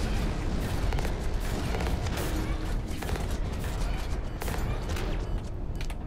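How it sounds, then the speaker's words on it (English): Gunfire in the mech shooter Hawken, a dense, continuous barrage of rapid shots and booms crackling from several directions, loud and unbroken for the whole stretch. "I'm getting shot at from too many angles."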